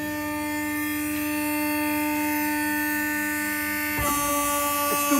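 A Bronneberg Forfex alligator shear runs with a loud, steady electric motor hum full of sustained tones, then a sudden jolt and shift in pitch as the machine changes load near the end.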